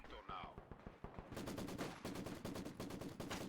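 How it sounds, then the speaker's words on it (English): MG42 machine gun bursts rattle in Company of Heroes 2, rapid regular cracks firing in long strings after a few scattered shots, loud and close, with faint background battle noise. "Now it's even flanked by the MG42"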